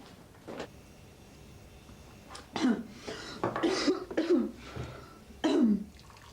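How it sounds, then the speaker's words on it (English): Several muffled coughs and throat-clearing bursts from upstairs come in irregular spurts, sounding somewhat distant, as if from another room. "Hear that cough from upstairs?"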